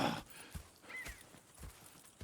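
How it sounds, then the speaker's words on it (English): Horse hooves clip-clop in a steady walking rhythm in Red Dead Redemption 2, a handful of soft, fairly quiet thuds spaced about half a second apart with no talking over them. "Go check the horses are ready."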